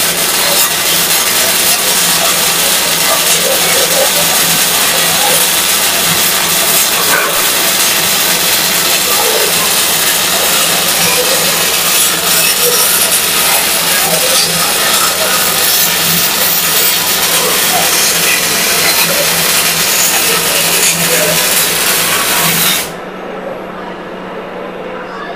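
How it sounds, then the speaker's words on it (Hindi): Robotic arm MIG welding metal joints produces a loud, steady broadband crackle and hiss that runs continuously for about 23 seconds, then cuts off abruptly, leaving only a quieter background hum. "जॉइंट्स बनने के बाद ये वेल्डिंग हो रही है"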